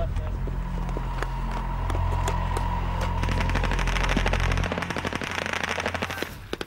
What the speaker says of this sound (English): The attack began with flares and machine gun fire once we'd crept as close as we could in the pitch dark